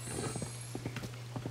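Horse hooves clip-clopping in The Legend of Zelda: Tears of the Kingdom near Castle Town Ruins, a quick irregular run of hoofbeats over a steady background hum and game ambience, close and moderately loud.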